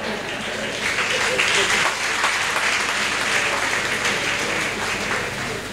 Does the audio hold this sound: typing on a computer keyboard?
no